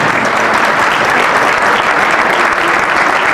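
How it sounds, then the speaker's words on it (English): Dense, loud audience applause at the Atlanta Tipoff Club awards ceremony, sustained clapping from a large crowd throughout without pause. "The loudest applause of all."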